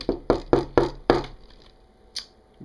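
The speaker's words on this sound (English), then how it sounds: "Is this knocking upon my phone now?" A run of five sharp, evenly spaced knocks on a phone sounds close and loud, followed by a pause and one more lighter knock.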